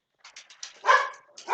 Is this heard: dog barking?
yes